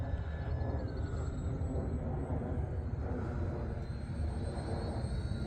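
A full-scale jet aircraft passing overhead at a radio-control model flying field, a broad, distant rumbling roar that holds steady throughout, with a faint thin whine drifting above it.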